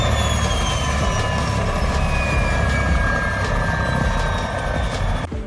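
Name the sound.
turbocharged Ford BA car engine revving, helicopter-like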